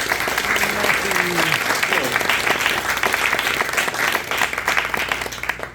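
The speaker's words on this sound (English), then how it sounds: "Round of applause for Marcy." An audience applauds a storyteller at a Thankful November story slam, a dense, steady wash of clapping from many hands that holds loud and even for several seconds.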